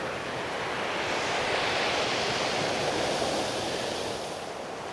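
Waves wash steadily onto a pebbly island beach near a ferry landing, a continuous close rushing surf with a faint windy hiss and no voices.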